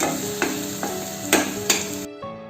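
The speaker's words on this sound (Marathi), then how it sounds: "मसाले तेलामध्ये छान शिजवून घेऊया" Spice masala with salt fries in oil while a spatula stirs it, giving a steady close sizzle broken by several sharp metallic scrapes and clinks. The sound cuts off abruptly near the end.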